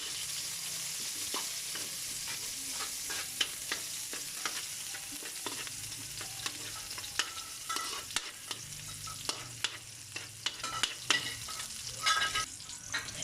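Onion sizzles and crackles in a pan as it is stirred for a Kapampangan sinigang with salmon and kamias, a close steady frying hiss dotted with frequent clicks and scrapes of a spoon against metal.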